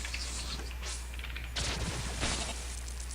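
Energy weapons firing in the robot game POLYBOT-7, a few bursts of zapping blasts over a steady low game drone, with a couple of stronger volleys near the end, no talk.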